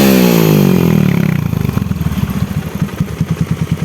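A Supra X motorcycle with a 140cc bore-up engine revs up close by, its pitch sweeping upward before it settles into a loud, steady, throbbing rhythm of exhaust pulses.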